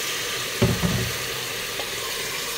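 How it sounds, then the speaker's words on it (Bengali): Water poured into meat cooking in a pan with chili powder and spices: a brief close splash and gush over a steady frying sizzle, which then carries on alone. "এখন এর মধ্যে কিছুটা জল অ্যাড করে দিতে হবে"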